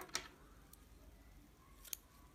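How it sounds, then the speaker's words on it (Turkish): Scissors snipping knitting yarn at the back section of a knitted piece, with two faint, crisp clicks about two seconds apart against quiet room tone. "Arka bölümün ipini ben burada kesiyorum."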